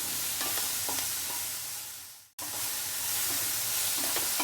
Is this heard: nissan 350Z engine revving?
no